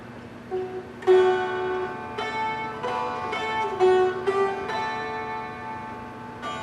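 Bright plucked dulcimer strings ring out in repeated strums with the back of the hand, sustained chords with a sweet metallic shimmer, close and moderately loud, playing a simple melody, Wildwood Flower.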